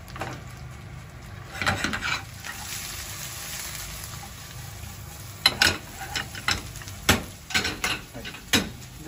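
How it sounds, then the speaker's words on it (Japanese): Spring cabbage being stir-fried over raised heat in a pan: a steady soft sizzle with irregular scraping and clattering strokes of the utensil against the pan, growing busier and sharper toward the end. "炒め始めます。"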